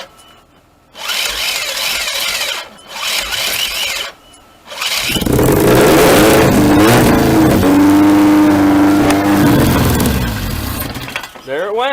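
A Mitsubishi Lancer with a swapped turbocharged 4G64 engine cranks in short bursts, then fires and revs loudly with a rising and falling engine tone before cutting off, close by.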